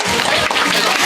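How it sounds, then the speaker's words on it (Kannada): Dense, steady applause for children receiving prizes at a women's association anniversary celebration held at a temple, filling the whole short moment at close range with no voices over it. "ಮಕ್ಕಳಿಗೆ ಚಪ್ಪಾಳೆ ಮೂಲಕ ಪ್ರೋತ್ಸಾಹವನ್ನು ನೀಡಿ."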